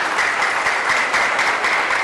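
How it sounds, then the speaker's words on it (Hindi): Audience applause at a talk on heart health and lifestyle, a dense, steady wash of many hands clapping that holds evenly loud for about two seconds with no voices on top. "एक बार जोरदार तालियां इनके लिए होनी चाहिए।"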